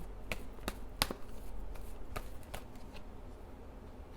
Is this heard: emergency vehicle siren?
no